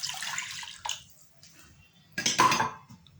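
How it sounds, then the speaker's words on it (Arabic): Juice from two lemons is poured into a saucepan for lemon curd, giving a short wet splash and trickle with faint clinks, fairly quiet and close, with no talk. "غادي نزيد عليه دوك جوج حامضات العصير ديالهم"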